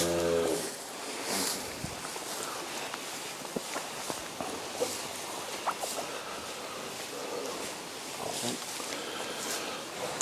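Cattle, cows and calves moving about a farm yard in winter, with shuffling footsteps and occasional lowing and stirring sounds spread through a steady background.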